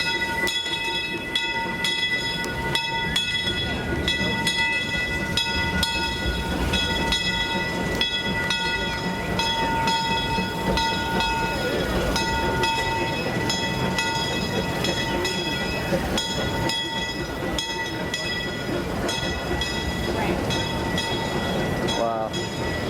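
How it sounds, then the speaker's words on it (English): A train rumbles past close by at Disney California Adventure for a long stretch, wheels clattering rhythmically over the rails with a steady metallic whine. "There was a train coming."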